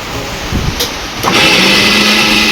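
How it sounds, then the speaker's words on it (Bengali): An electric mixer grinder blends ginger and garlic into paste at home. After a second of quiet background, the motor kicks in and holds a loud, steady whirring whine to the end. "তো ভালো করে মিক্সিটা করে দিচ্ছে"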